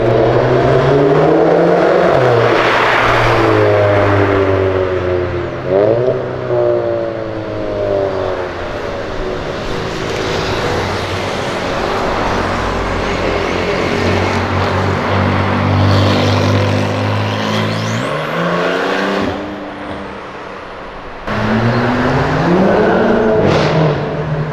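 A Fiat Palio Turbo accelerates hard at full throttle, its engine revving up through gears with rising and falling pitch sweeps, loud and close, punctuated by brief shifts and a renewed surge near the end.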